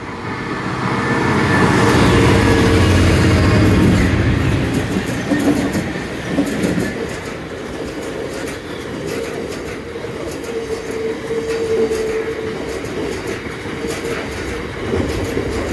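A Class 153 diesel train passes close by with a loud, sustained rumble that swells early and then settles into a steady roll of wheel clatter and rail noise.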